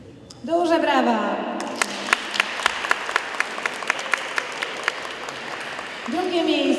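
An audience at a school carol competition breaks into steady applause with distinct individual claps standing out. A voice speaks over a public address system just before and just after the clapping.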